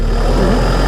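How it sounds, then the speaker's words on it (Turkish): A Kubota MK5000 tractor engine idles close by, a steady low diesel rumble with an even throb held briefly and alone. "Zaten sesinin bu rölanti sesi de insana böyle bir güven veriyor."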